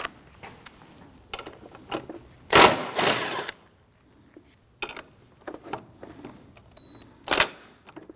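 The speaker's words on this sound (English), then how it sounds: "we're going to use our 13mm socket, loosen and remove these 3 locking nuts here" A ratchet with a 13mm socket loosens the three upper strut nuts on a 2001–2009 Volvo S60, making close, crisp clicking bursts of varying length, with two louder stretches of rapid ratcheting and quieter clicks in between.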